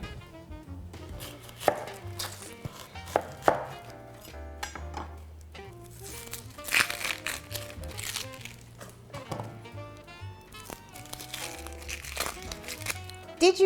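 An onion is chopped with a knife on a cutting board: sharp, irregular chops and crisp crunches, close by, with a few faint clinks, while a person talks over it.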